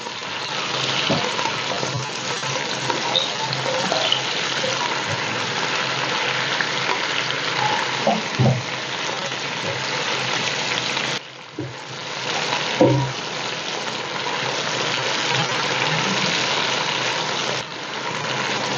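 Chicken necks sauté with onions in a pan for chicken yakhni, giving a loud, continuous sizzle with occasional scraping stirs, and no talking.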